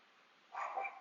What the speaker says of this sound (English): That's my dog, Lacey.